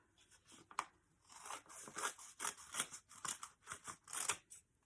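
Scissors snip repeatedly through pages torn from a large book, cutting them in half; crisp close-up cuts come in an irregular run of short rasping strokes, with no voices.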